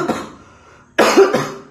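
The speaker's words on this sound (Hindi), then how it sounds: "खांसी हो गया" A man coughs twice in a quiet room during a maths lesson, a short rough burst followed by a louder, harsher double cough close to the microphone.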